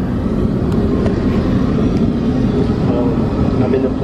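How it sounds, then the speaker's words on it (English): Airplane cabin noise on a flight to Tokyo, a loud steady broadband roar with a strong low-frequency drone that stays constant from start to finish. "I'm in the plane right now, headed to Tokyo."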